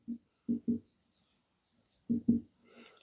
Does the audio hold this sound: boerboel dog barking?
no